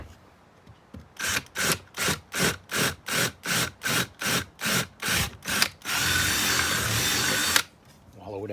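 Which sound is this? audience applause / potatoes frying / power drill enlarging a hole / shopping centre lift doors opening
power drill enlarging a hole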